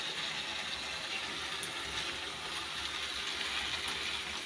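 Hot water pouring steadily onto jaggery for a thin chutney, a continuous close gushing splash that runs evenly without a break.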